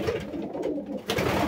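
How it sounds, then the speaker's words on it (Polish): Pigeons coo close by in soft, low, throaty murmurs that run continuously through the short moment. "No to są gołębie zdrowe,"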